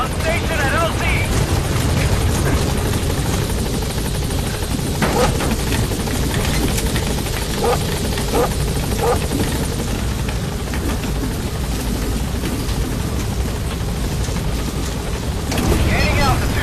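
Pequod helicopter from Metal Gear Solid 5 hovering at a landing zone, a loud continuous rotor roar with wind-like rushing that stays close and constant, with radio voices talking over it.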